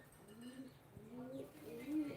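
Soft, low pigeon coos repeat a few times at close range, faint against a quiet background hum.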